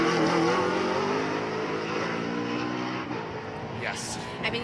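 A 2020 Toyota Supra race car, number 91, pulls away at the Pikes Peak hill climb, its engine droning loud and close before easing off, with a commentator talking over it.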